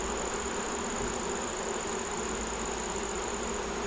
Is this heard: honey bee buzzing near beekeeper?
yes